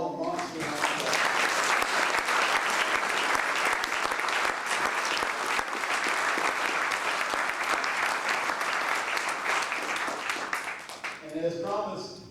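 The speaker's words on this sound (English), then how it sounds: "Let's give them all a monster round of applause." Sustained, loud audience applause fills a reception hall at a First Tee of Greater Washington, DC gala, steady for about ten seconds before tapering, with a few voices surfacing at the end.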